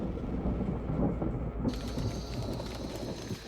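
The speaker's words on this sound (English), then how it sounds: "It's starting to rain." Rain sets in outdoors, a steady broadband patter and hiss that grows denser and brighter partway through, with low rumbling underneath and no voices.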